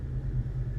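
A car engine fitted with Holley Terminator X fuel injection, MSD 6A ignition and a Chrysler idle air control idles at about 900 rpm, a steady low close rumble with an even pulse, no voices.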